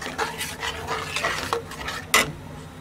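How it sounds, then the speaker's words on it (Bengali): Chicken being stir-fried in oil with salt, bay leaf, cardamom and cinnamon for a home-style Bangla chicken roast, with a steady sizzle under repeated scraping and stirring strokes and a sharp metallic clank near the end. "আর তেল দিয়ে এটাকে ভালো করে কষাতে হবে।"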